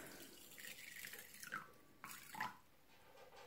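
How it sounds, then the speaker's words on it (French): Water is poured from a container over seeds in a vessel to soak them for germination; a soft, close gurgling trickle in uneven splashes, with brief pauses, fairly quiet. "On recouvre d'eau."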